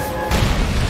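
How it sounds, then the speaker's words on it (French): An explosion in the video game Monster Hunter World bursts out suddenly into a dense, loud, broadband boom that stays heavy and roaring to the end, with no talk over it. "Explosion."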